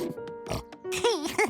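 Short pig grunts and oinks up close, mixed with a voice speaking nearby.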